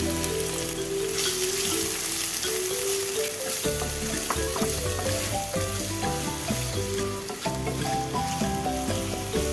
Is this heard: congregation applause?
no